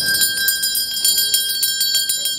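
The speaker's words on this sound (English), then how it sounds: "Hey, nice bell." Rapid, loud metallic bell ringing at a piano concert venue in St Petersburg, a bright sustained tone with quick repeated strikes, like an electric bell calling the audience in, heard close and alone.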